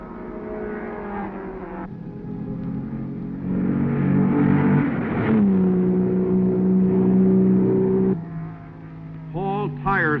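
Race cars at the 1965 Sebring 12 Hours endurance race, a Chaparral and Gurney's car, engines droning and rising in pitch as they pass, loud and steady, with a brief high engine whine near the end.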